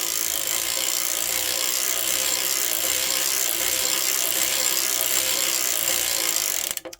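A hand-cranked circular sock knitting machine clicks and ratchets steadily as it is cranked slowly through rows of waste yarn. The dense mechanical chatter is close and continuous, then cuts off at the end.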